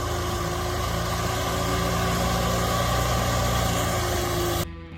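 Small Farmall Cub farm tractor engine idling steadily, a loud, even mid-to-low rumble that holds for several seconds and then cuts off abruptly.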